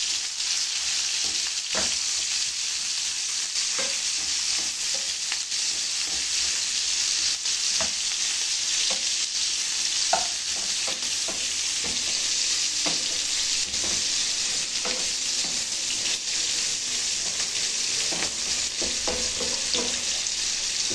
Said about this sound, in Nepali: खुर्सानी हल्का चलाइदिएँ